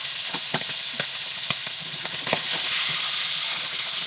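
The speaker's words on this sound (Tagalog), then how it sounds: "Prito pa natin yung ibang karne ng baboy" Pork fries in hot oil with a steady sizzle and scattered sharp pops and crackles, heard up close.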